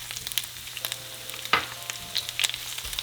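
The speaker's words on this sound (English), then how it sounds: "the other half of onion, we're going to cut into small strips, and we're going to fry it in our oil" Onion strips fry in oil in a small frying pan, a steady soft sizzle running throughout with light clinks and stirring taps, close and alone without talk.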